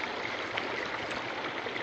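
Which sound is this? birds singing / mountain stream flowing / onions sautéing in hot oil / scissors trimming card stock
mountain stream flowing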